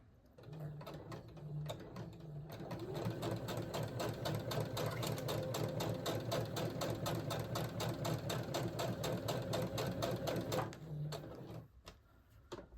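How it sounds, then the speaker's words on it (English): A sewing machine stitches a quilt seam, running in one long fast rhythmic burst of mechanical needle clatter for about eight seconds, with short bursts before and after, close and clear without speech. "I know you can't see this part, but I'm sewing."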